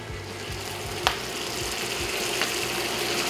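Butter and garlic sizzle and fry in a hot pan with a steady, dense hiss that carries through the whole stretch, broken by a couple of faint clinks.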